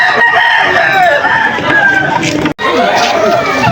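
A gamecock rooster of Boston crossed with Gilmore bloodline crows and clucks amid a busy outdoor gathering in Malolos, Bulacan, with crowd chatter and other fowl all around; a brief dropout breaks the sound partway.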